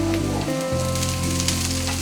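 Garlic and sliced green chilli sizzle in a frying pan while chilli chicken is being made, a steady, even hiss that runs unbroken through the short stretch with no voices.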